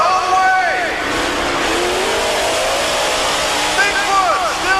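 Bigfoot monster truck roaring through a U.S. Hot Rod Association race, a loud continuous engine roar with sweeping pitch rises from vehicles, mixed under an announcer's excited commentary.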